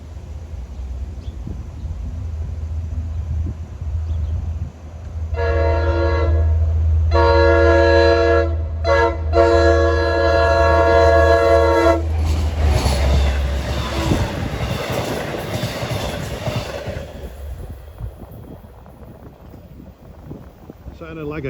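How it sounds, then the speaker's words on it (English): Long Island Rail Road train 8768, Babylon to Patchogue, roars past nearby with a loud rumble, sounding its horn in several blasts before the wheels clatter away and fade. "This is train 8768 from Babylon to Patchogue."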